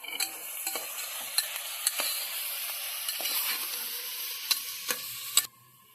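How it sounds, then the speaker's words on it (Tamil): Tomatoes sauté in a pan for vegetable biryani with a steady close sizzle, punctuated by sharp spoon scrapes and clicks, then cut off abruptly at the end. "தக்காளியை நல்லா வதக்கி விடணும்."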